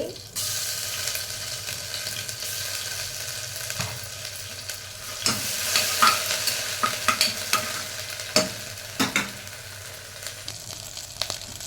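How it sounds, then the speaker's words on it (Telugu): Green chillies and ginger garlic paste fry in cold-pressed oil for coconut rice. A continuous close sizzle runs throughout, and a spatula scrapes and knocks the pan in repeated strokes toward the end. "అవి వేగుతున్నాయి కదా, ఇలాంటప్పుడు ఒక 3 పచ్చిమిరపకాయలు వేసుకోవాలి."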